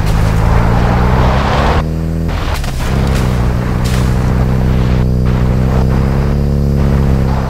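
Vehicle engine driving in Call of Duty, a loud, low, continuous rumble with heavy booming thumps breaking in near the middle, close and without speech.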